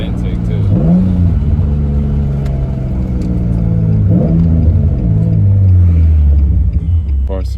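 A Nissan 350Z's VQ35DE engine fitted with a 5/16 Blox plenum spacer and intake, revving hard twice, rising and falling, over a loud steady idle rumble close by.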